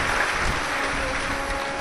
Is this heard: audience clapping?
yes